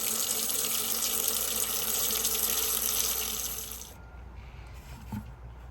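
Kitchen tap runs steadily into water to hold freshly harvested mint, a loud even rush that abruptly stops, leaving faint drips and a small clink.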